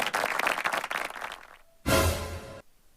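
Applause breaking out to welcome a chief guest, an MLA, at a comic kavi sammelan poet gathering; a short, dense burst of clapping erupts after speech and stops abruptly.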